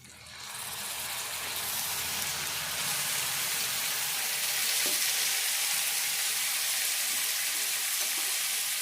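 Tomatoes hit a pan of sautéed onions and spring onion greens for an onion-tomato curry, raising a steady, bright sizzle that swells after the first second and holds evenly, close and alone.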